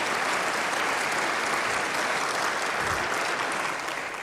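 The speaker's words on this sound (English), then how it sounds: "Can I please ask for a moment of applause for Brooke" Steady, dense applause from a large audience at a governor's State of the State address, loud and sustained throughout with no talk over it, tapering slightly at the end.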